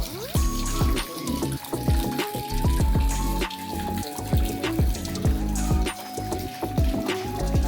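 Sudden rain falls outdoors while water is caught, heard as dense spattering and trickling with repeated splashing drops, fairly close and continuous throughout.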